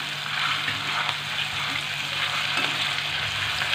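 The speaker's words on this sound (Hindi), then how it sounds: "फ्राई करना है अदरक लहसुन के पेस्ट को" Ginger garlic paste frying with onions in a pan for a cabbage dish: a steady, close sizzle that stays even and loud for the whole few seconds, with no talk.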